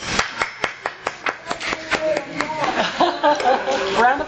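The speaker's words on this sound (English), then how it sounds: "Round of applause." Scattered, separate claps in an even rhythm come from a small audience at a transit board meeting, then fade into chuckles and talk as people speak over the end.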